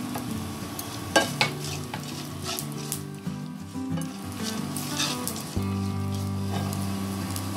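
Sesame seeds, cashews and peanuts dry-roasting in a pan, a soft continuous sizzle with repeated stirring scrapes and a couple of sharp clinks from the utensil against the pan.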